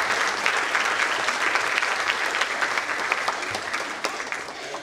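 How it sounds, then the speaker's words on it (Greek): Warm applause from an audience at an awards ceremony for a competition, steady dense clapping filling the room at a consistent level throughout. "την κυρία Αθηνά Ρικάκη, ένα θερμό χειροκρότημα."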